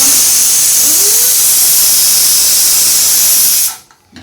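Chana dal fritters fry in a small amount of oil in a wok, giving a loud, steady hiss of sizzling that runs unbroken for several seconds before cutting off abruptly near the end.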